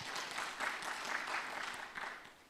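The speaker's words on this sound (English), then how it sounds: "I think we can clap for ourselves on that." Conference audience applauding at a national statistics event, a fairly faint, continuous patter of many hands clapping that tapers off toward the end.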